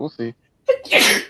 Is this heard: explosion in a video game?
no